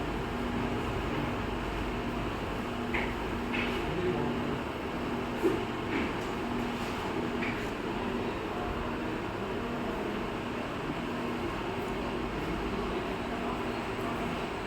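A Schneider Electric LXM32MC10N4 servo drive runs its servo motor at a set RPM, giving a continuous, even mechanical hum with a faint steady tone and occasional soft ticks, unbroken throughout.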